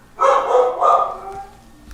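A rescued pit bull in Detroit gives two close, loud barks in quick succession, followed by a fainter trailing whine.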